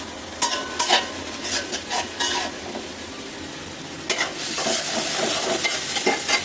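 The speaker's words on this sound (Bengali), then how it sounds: "পেঁয়াজটা ভাজা ভাজা হয়ে গেছে" Onions fry in a pan for a bitter gourd and shrimp dish. A steady sizzle runs underneath, broken by bursts of stirring and scraping in the pan, with no talking.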